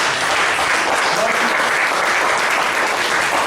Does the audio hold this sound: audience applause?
yes